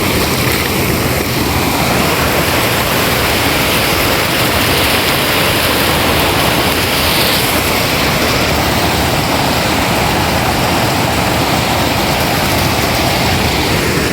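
Spring water tumbles down a waterfall in a village on a monsoon morning, a loud, dense, continuous rushing roar with no breaks and no voices.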